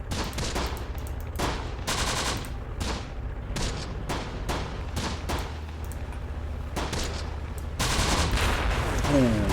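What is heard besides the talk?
grenade or mortar explosions in video game Close Combat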